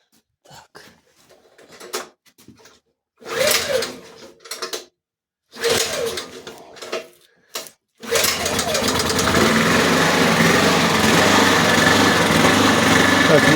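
A gas-fitted generator with its gas closed is started on petrol: a few pull-start attempts and mechanical clunks mixed with speech, then the small engine catches and runs at a steady loud drone.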